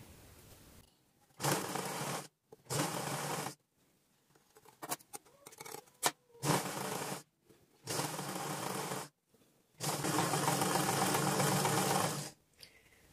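Domestic sewing machine stitching and backstitching the seam of a basic blouse, running in several distinct loud bursts of steady whirring, stopping briefly between passes, with quiet handling noises in the gaps.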